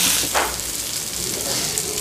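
Masala-coated vanjaram fish fries in a pan with a loud, steady, close sizzle and crackle throughout, no talking.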